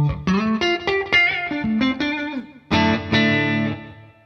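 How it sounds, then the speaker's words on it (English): Electric guitar with P90 pickups picking out a melodic run of single notes, then ringing chords, with a light reverb and echo trailing each note; no voices. "this is literally just the guitar plus the mild reverb and delay"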